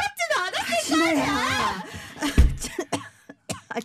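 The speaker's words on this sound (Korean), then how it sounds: "당신 요즘 기침이 잦네." A man in a Korean drama breaks into a short run of rough coughs right after a line of speech, the bursts fairly loud, close and irregularly spaced.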